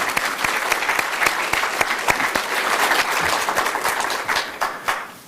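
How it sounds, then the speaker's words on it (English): An English department evening audience claps together, dense and close with sharp individual hand strikes standing out, holding strong before thinning and fading out at the end. "So maybe another round of applause for everybody tonight"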